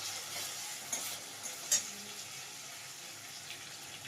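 Slit green chillies hit ginger paste in a hot pan while cooking a fish curry, giving a soft, steady sizzle with a few small stirring knocks and clicks, faint and close, with no talking.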